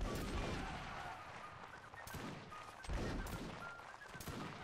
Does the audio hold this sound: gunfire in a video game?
yes